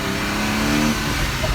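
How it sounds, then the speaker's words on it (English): A Porsche Cayman engine with its engine cover removed revs loud and close in a continuous droning roar, its pitch shifting slightly over a short burst. "I'm going to take the engine cover off of my Cayman and then drive it around a little bit just to see what it sounds like"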